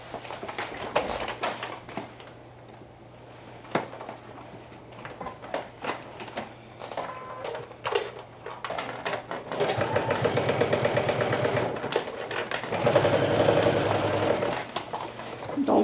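A sewing machine stitching around the crown of a bucket hat, starting with scattered clicks and short runs, then whirring steadily in two longer bursts in the second half.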